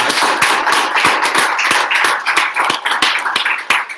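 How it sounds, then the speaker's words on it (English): An audience gives a short burst of applause at the end of a lecture, with dense, steady clapping from many hands that stays loud for a few seconds. "Let's give him a big round of applause."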